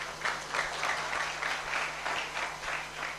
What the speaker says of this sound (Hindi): ताली मारबा कि जोर से